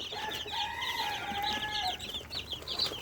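A steady chorus of high, shrill chirps from many day-old Tiger chicken chicks in a brooder rises over a constant low hum, with overlapping peeps throughout.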